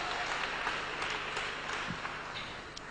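A church congregation claps together in a dense, continuous patter of applause, heard from some distance and fairly faint, with no single claps standing out.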